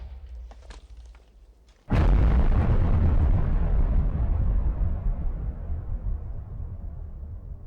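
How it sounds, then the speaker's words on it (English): Big explosion from a modded weapon in Minecraft: after a few faint clicks, a sudden loud blast erupts and then rolls into a long rumbling decay that fades over several seconds. "Big boom."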